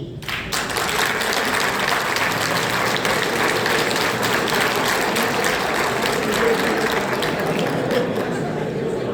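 Sustained audience applause at a ceremony where the new president of a union addresses the gathering, a thick, continuous clatter of many hands that starts abruptly and holds loud and steady throughout.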